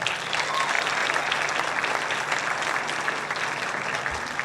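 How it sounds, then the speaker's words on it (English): An audience at a school jazz concert applauds. The clapping is dense and steady, heard from within the room at moderate volume, with no speech over it. "Please give Anthony and Andrea another round of applause"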